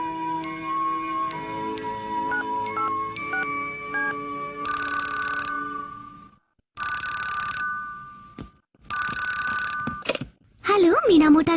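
Telephone ringing in a Hindi-dubbed Doraemon cartoon, a loud electronic ring in several repeated bursts with pauses between them, following earlier cartoon music and sounds.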